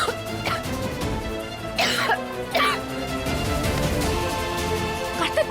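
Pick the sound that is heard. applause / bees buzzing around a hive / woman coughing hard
woman coughing hard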